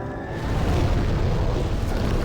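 Flamelurker boss explosion attack in Demon's Souls, a loud deep rumbling blast that swells within half a second and roars on steadily to the end, with no talking.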